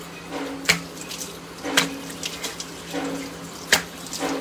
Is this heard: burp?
no